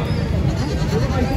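A goat bleats at a busy livestock market, its bleats blended into dense crowd chatter and general market noise that stay loud and steady throughout.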